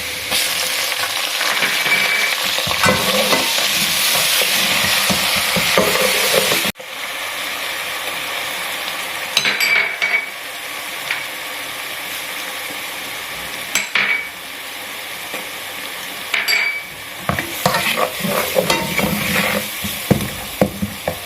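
Browned onions frying with added spices in a pan for keema and bitter gourd, loud sizzling at first, then quieter frying broken by repeated scraping stirs and clinks.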